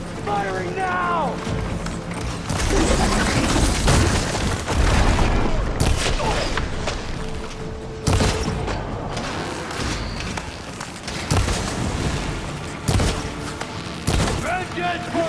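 Weapons fire in a tribal battle in Horizon Forbidden West comes as scattered booms and bursts mixed with clanking mechanisms, shouting voices and music. The fight stays busy throughout, and people talk over it.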